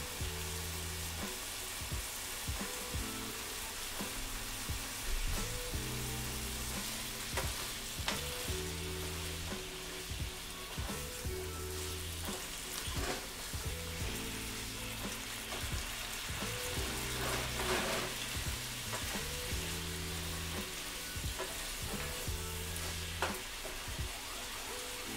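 Chicken sizzles steadily in a hot frying pan, a dense crackling hiss with occasional utensil clinks and stirring, continuous throughout.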